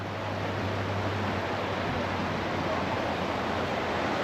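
Water at Midway Geyser Basin in Yellowstone gives a steady, dense rushing hiss, close and continuous, blended with wind noise and no distinct pauses.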